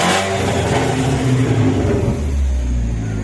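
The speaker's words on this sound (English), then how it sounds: "So now, let's rev it." A BMW E46 car engine revving up hard, loud and close, a rising roar that holds and then settles into a lower drone toward the end, with no talking.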